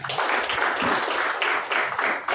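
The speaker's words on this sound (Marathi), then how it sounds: "जोरदार टाळ्या" Loud, dense applause from a crowd, many hands clapping together in a continuous burst that stays strong throughout.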